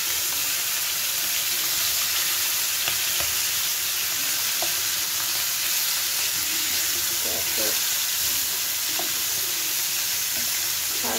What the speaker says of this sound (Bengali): হলুদ লবণ দিয়ে মাছগুলো ভেজে নিচ্ছি